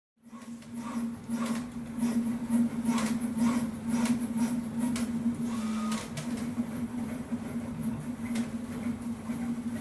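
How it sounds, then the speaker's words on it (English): A Prusa MK3 3D printer prints parts for an enclosure, its stepper motors droning a steady tone beneath rapid ticking and whirring movements that continue without pause, close and moderately loud. "what you guys can see here is the real-time printing of a bunch of different parts for this enclosure that we're building"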